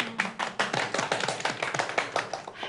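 A family claps together in a home setting, a quick uneven run of about a dozen crisp, close handclaps that speeds up slightly and then tapers off.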